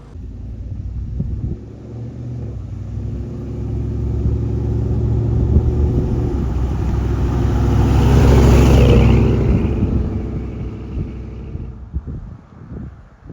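A 1965 GMC Suburban with an LS swap engine runs fully warmed up, a steady close rumble that swells in the middle and eases off, with some wind buffeting on the microphone.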